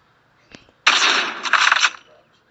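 A burst of Call of Duty gunfire, with one short crack followed by a sustained rapid volley lasting about a second, loud and close against a quiet background.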